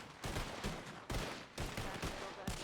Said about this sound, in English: Shots fired. Right side.